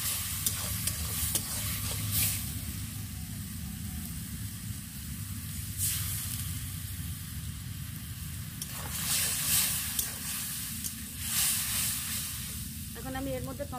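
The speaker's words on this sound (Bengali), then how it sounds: "ধনে গুঁড়ো 1 চামচি, আর জিরে গুঁড়ো 1 চামচি, আর লঙ্কা গুঁড়ো 1 চামচি দিয়ে আমি নাড়াচাড়া দেবো" Ground coriander, cumin and chilli powder sauté in a pan with a loud continuous sizzle and repeated scraping stirs at close range, with a few bursts of hiss.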